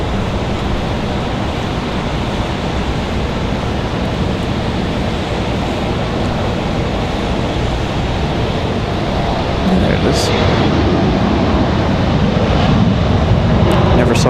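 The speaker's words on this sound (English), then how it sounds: "Do we have a CRJ departing?" A CRJ regional jet departs from Raleigh Durham airport, heard as a steady broadband roar that stays loud throughout and swells a little toward the end, with faint voices beneath.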